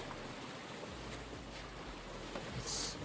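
Water wheel turning and splashing in the Farming Simulator 22 video game, a steady rushing wash of water with a bright hiss, constant and fairly loud with no voices.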